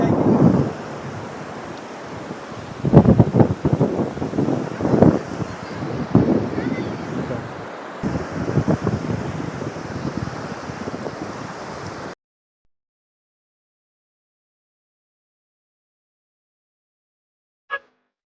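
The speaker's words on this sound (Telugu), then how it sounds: "ఇందులో ఎగసిపడే అలలు ఎలా ఎగిసిపడుతున్నాయో చూడండి ఒకసారి" Ocean waves at Suryalanka beach in Bapatla, Andhra Pradesh, a steady roar of surf and wind buffeting the microphone, with people talking over it for about twelve seconds before it cuts to near silence and a brief click.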